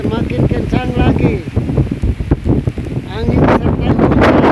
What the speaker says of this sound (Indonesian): angin semakin kencang lagi.